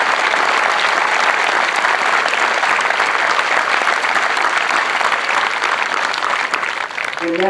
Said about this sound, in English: let's give our MTIs a exceptional round of applause